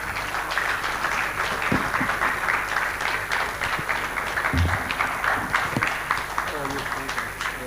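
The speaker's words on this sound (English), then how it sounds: "I think I will mandate us to clap until he gets here." Audience at a conference on financing sustainable energy and agriculture infrastructure claps steadily throughout, dense and continuous, with a few nearer claps and some voices talking underneath.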